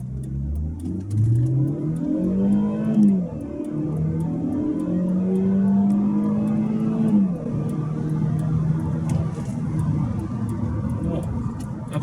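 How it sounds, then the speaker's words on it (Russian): An Audi A4 2.0 TFSI running on LPG gas accelerates, its engine note rising in pitch through gears with a shift dip, close and steady, then settling into a cruising drone with road noise. "мы сейчас немножко ускоримся, посмотрим, как она себя ведет."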